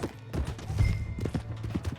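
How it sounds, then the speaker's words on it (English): Horse hooves clip-clopping in Red Dead Redemption 2, a quick, close, uneven run of thudding steps filling the moment, with no voices over them. "Hey, that's my horse!"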